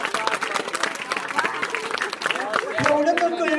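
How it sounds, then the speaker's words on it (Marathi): An audience at a humorous lecture breaks into lively clapping, a dense patter of many hands, and a voice begins speaking over the applause near the end. "एवढं तर कळलं टाळ्या कुठे वाजवायची"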